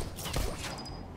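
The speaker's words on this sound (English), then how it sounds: "Now try to shoot the targets as they appear." Gunfire at targets in the VR shooter game Bullet Train comes as a quick burst of sharp crackling shots, loud and close, with a brief ringing tail.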